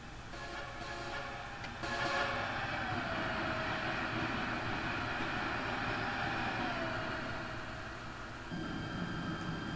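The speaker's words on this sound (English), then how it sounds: "Here comes a train." A train passes at Jersey Avenue station in Train Simulator 2018: a steady rumbling roll with tonal whine that swells and carries on, in rainy weather.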